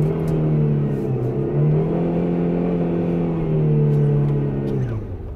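A car revs steadily while doing a reverse donut in snow, its engine droning loud and close with a slowly wavering pitch that drops off at the end, and no talking.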